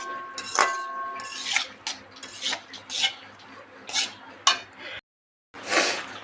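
Spinach greens stirred in a cooking pot, giving a run of close, uneven scraping and clinking strokes with brief pauses and a short silent gap near the end.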